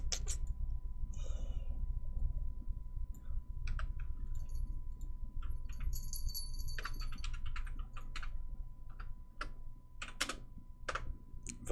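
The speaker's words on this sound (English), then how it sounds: "Maybe I'm typing in the name wrong." Keys clatter steadily on a computer keyboard in a run of irregular clicks and taps, with a few sharper louder strokes near the end, close up and with no talking.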